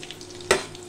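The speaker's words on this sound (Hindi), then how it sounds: "हरी मिर्च को हमने डाल दिया है जो कट करके रखा था, इसको भी थोड़ा भून लेते हैं।" Chopped green chilies and cumin sizzle in a hot pan, with a short, sharp stirring scrape over a soft, steady frying hiss.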